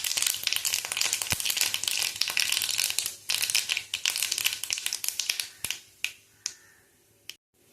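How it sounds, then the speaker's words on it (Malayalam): Mustard seeds pop and splutter in hot coconut oil in a pan, a dense run of sharp crackles that thins toward the end into a few isolated pops before falling quiet. "അപ്പം എണ്ണ ചൂടായിട്ടുണ്ട് അതിലേക്ക് നമുക്ക് ഇത്തിരി കടുക് ഇട്ട് കൊടുക്കാം"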